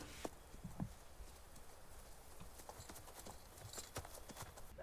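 Horse hooves clip-clop in a film soundtrack, Spirit: Stallion of the Cimarron, a quiet series of irregular hoof knocks over a soft, steady background.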